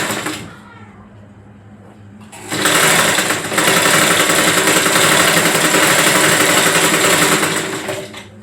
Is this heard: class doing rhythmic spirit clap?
no